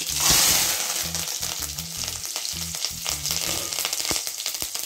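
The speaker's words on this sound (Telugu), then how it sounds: "కడాయి వేడి అయిపోయింది అనమాట ఆయిల్ పోసుకున్నాం దాంట్లో మనం నెక్స్ట్ మెంతులు మెంతులు ఆవాలు" Fenugreek and mustard seeds fry in hot oil in a heated kadai, giving a loud hiss that swells at first and then settles into a steady crackle with scattered pops and light stirring.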